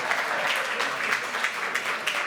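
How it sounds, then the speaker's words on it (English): A conference audience claps continuously, a dense burst of applause from many hands without any voices. "I think that she deserves our applause, Anastasia Kiseleva."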